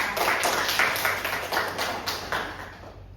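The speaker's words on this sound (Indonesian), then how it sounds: "beri tepuk tangan untuk Salwa" A classroom of students claps for a classmate named Salwa, a short burst of scattered, fairly close hand claps with no talking.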